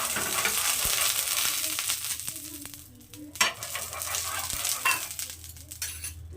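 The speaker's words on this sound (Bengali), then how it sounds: "তাওয়াতে আমি সামান্য তেল দিয়ে দেবো প্রথমে" Oil heating on a tawa gives a steady, close sizzle, broken by a few sharp knocks and a brief lull before the frying hiss returns.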